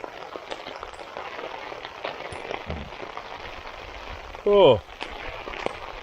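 Rain patters steadily onto a tarp during a storm, a dense, soft drumming close overhead, and a single brief spoken exclamation breaks in near the end.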